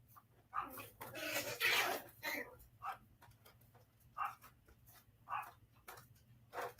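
A dog barks repeatedly indoors, a burst of rapid barks followed by spaced single barks, moderately close with no talking.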